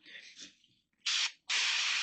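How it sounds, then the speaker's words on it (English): Glass cleaner sprayed from a spray bottle during cleanup on a Kawasaki KZ400 street tracker cafe racer: soft handling noises, then two close, loud hissing bursts, a short one and a longer one. "spray away glass cleaner"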